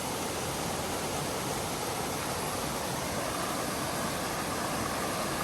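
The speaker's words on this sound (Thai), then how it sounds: "เสียงน้ำตกเนี่ยมันดัง" A loud waterfall roars as a dense, constant broadband rush of water, close and unbroken throughout.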